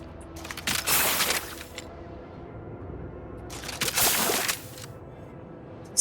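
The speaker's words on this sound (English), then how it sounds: "Spray? That's spraying something" Hissing spray bursts in the video game Outer Worlds 2: two separate airy, high-pitched sprays about three seconds apart, each lasting roughly a second, over a quiet background.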